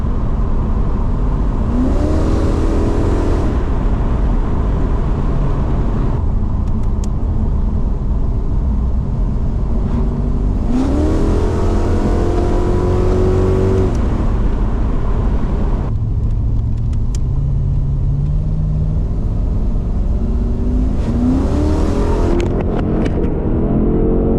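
An LS1 V8 engine in a VL Calais, fitted with a Walbro 460 fuel pump, idles and revs repeatedly, rising in pitch three times over a steady, loud running drone, with no voices.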